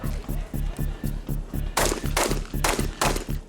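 Shotgun blasts ring out in a rapid, regular series at a nighttime three-gun shooting match, loud and close, with a narrator talking over the shots.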